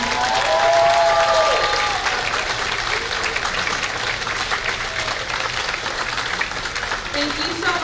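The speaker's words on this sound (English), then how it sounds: "another round of applause for our seniors and these wonderful people behind me" A high school audience at the East spring band concert applauds the seniors and performers, a dense, loud, steady wash of clapping lasting several seconds, with cheers and voices rising over it at the start.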